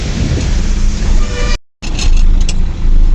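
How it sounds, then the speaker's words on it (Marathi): Heavy road traffic beside a highway, heard from inside a tempo truck on a trip from Pune to Wada, Palghar, as a loud, broad roar with a brief dropout partway through. "ट्राफिक बघा किती आहे त्या साईडला"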